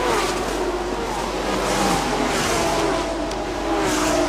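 Race cars from the Thailand Super Series at the Bangsaen Grand Prix street circuit, among them a Porsche, power up a hill. Engines hold a loud, steady high-revving roar throughout.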